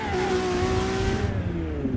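Ferrari engine in Garry's Mod revving with a slightly odd throttle tone, a loud close whine that slides slowly downward over a low rumble and cuts away near the end.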